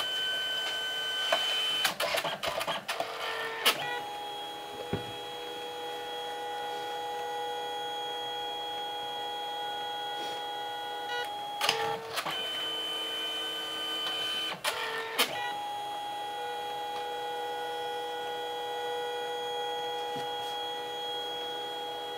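An inkjet photo printer prints a picture, running steadily for over twenty seconds with a constant whirring hum, broken by a few sharp mechanical clacks and carriage shuttles near the start, middle and later on, with no voices.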